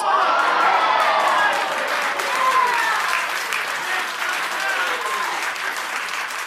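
A television talk-show studio audience claps loudly and steadily, dense applause with a few cheers blended in, holding strong throughout before easing slightly toward the end.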